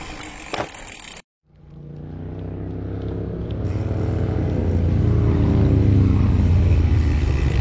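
Motorcycle engines rumble past along a riverside gravel path, a loud low drone swelling and lingering close by while the rider keeps moving.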